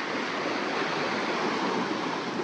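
Sea waves on a UK beach wash steadily over the shore, a continuous broad rushing close by with no pauses and no voices.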